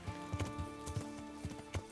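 Horse hooves galloping in the medieval role-playing game Kingdom Come: Deliverance, a string of thudding clip-clop beats in an uneven running rhythm over a steady game music and ambience bed.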